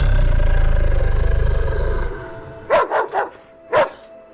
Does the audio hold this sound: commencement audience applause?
no